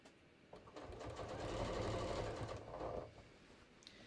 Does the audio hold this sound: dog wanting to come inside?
no